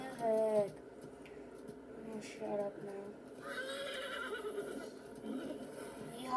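A horse neighs in the Roblox video game with a loud whinny at the start, and a softer second neigh follows amid other quiet game sounds.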